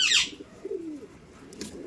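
Pigeons, Sharanpuri Jack birds among a loft of Giribaz pigeons, give a soft low coo near the middle, with a sharper chirp and rustle at the start, close and fairly quiet.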